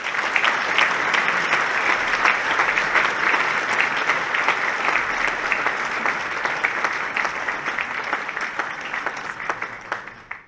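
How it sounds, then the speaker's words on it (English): Sustained audience applause fills the room after a nuclear energy talk by Miss America 2023 Grace Stanke, steady dense clapping for about ten seconds before trailing off at the end. "If you could do another round of applause for her"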